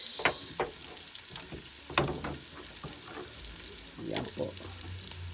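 Onions sauté in a hot pan for Filipino kare-kare, a soft sizzle broken by scrapes and clacks of stirring spread across the clip, with faint talk in the background.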